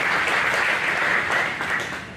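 Crowd applause at a political fish fry keynote speech fills the air, a dense wash of many hands clapping at once that swells and then gradually tapers off.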